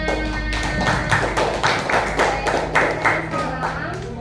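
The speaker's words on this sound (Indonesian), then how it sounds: "Oke, tepuk tangan." A class of students clapping their hands together in a school lesson, a steady run of fairly loud, rhythmic claps over a low room hum, with some voices mixed in.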